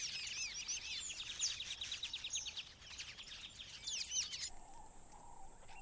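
Weaver birds in the Serengeti chirp in rapid, bright, repeated calls that overlap densely, followed at the end by a thinner, steadier tone.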